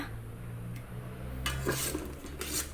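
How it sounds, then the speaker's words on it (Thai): Garlic and shallots dry-roasting in a pot, stirred with soft scraping and a few metallic clinks over a low steady hum, close and brief with no talking. "กระเทียมกับหอมแดงใส่ลงไปเลยค่ะ เราจะคั่วให้สุกนะคะ"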